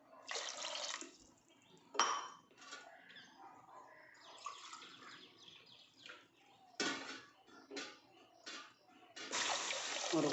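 Water poured into a cooking pot for rice, about four tumblers' worth, for a banana-flower biryani: splashy, uneven pouring bursts with a few brief clinks, fairly close.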